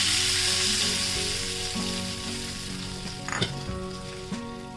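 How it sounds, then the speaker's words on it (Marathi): Hot tempering oil with asafoetida crackles and sizzles as it is poured over methi rava dhokla, the hiss slowly fading, with a sharp spoon clink near the end. "हे गरम गरम ना तडका याच्यावर टाका"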